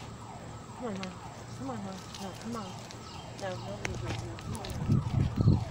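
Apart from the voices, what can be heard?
ambulance siren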